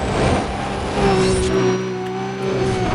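A car accelerates hard in Need for Speed: Undercover, a loud engine with a rising whine as it revs through gears, with another brief surge partway through and a steady drone under it.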